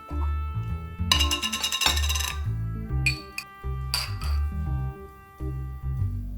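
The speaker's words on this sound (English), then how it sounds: "Crack open our jam" A glass jam jar is twisted and cracked open in a kitchen while scones are being prepared, giving a dense burst of close clinking and rattling followed by two shorter sharp clicks, all over steady background music.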